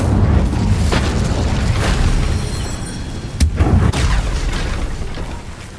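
A fire spell cast in the video game Hogwarts Legacy: a loud, booming burst with a sharp crack about midway, set against a continuous rumbling, fiery roar.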